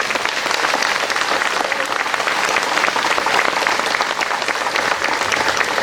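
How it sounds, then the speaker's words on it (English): Sustained applause from a large crowd at a ceremony honoring uniformed service members, loud and steady throughout with dense overlapping claps and no speech. "join me in a round of applause for all the men and women in uniform here today."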